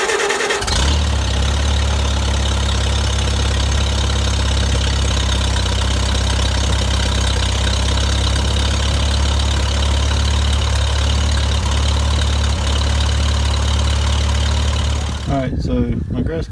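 A riding lawn mower engine cranks over with the starter and catches, then runs at a steady, loud idle with a low droning hum for most of the stretch before cutting off near the end.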